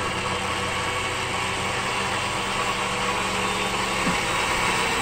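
A Tesla turbine spins a high-speed generator, producing a constant loud mechanical whine and hum with steady vibration and no breaks or voices.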